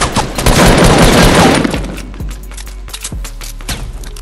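Loud bursts of rapid gunfire in the Fortnite Battle Royale video game, a dense fusillade for the first second and a half, then scattered single shots and thuds trailing off.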